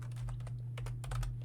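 Typing on a computer keyboard while writing code, with irregular bursts of clicky keystrokes over a steady low electrical hum, close and moderately quiet.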